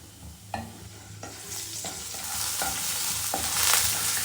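Urad dal and roasted gram stir-fried in a pan for pottu kadala chutney, with repeated scraping stirs over a sizzle that builds steadily louder; no voices.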